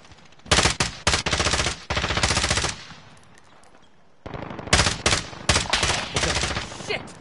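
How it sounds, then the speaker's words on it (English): Rapid automatic gunfire in a video game: two long, loud bursts of close machine-gun fire separated by a short pause, with tight repeated shots. "I'm taking fire!"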